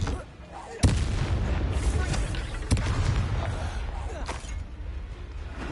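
A Confringo blasting spell in the game Hogwarts Legacy fires as two sharp explosive booms, under a dense, continuous rumble of combat noise.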